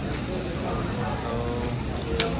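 Food sizzles and crackles steadily in a hot frying pan, a loud, even hiss that runs throughout with no pauses.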